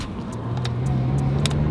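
A BMW E46 with a new engine and remap pulls away on a spirited start, its engine note rising steadily and holding loud and close through the whole short burst, with a few sharp high ticks over the top.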